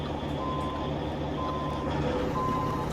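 Reversing beeps from a Mack B62 truck sound steadily over a low, rumbling idle close by, with a faint voice at times.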